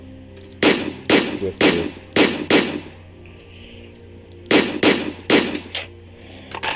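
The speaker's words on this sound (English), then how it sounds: "I'm gonna just machine gun up on the mountain." Machine gun fire in the Roblox zombie tycoon game, heard as loud rapid bursts: several shots in quick succession, a pause of near quiet, then another volley, with a brief spoken phrase in the clip.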